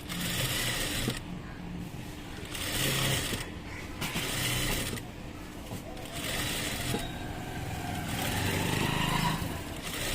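A sewing machine stitching a blouse seam about a quarter inch in without hemming, running in repeated motor bursts of a second or so with pauses between, close and steady, with some faint background voice.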